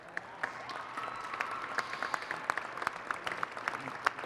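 An audience at a charity preview opening event claps in sustained, dense applause, moderately distant, with sharp individual claps popping out over the steady patter and no talk.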